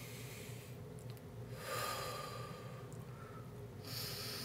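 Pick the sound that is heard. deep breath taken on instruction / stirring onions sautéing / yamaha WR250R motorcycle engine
deep breath taken on instruction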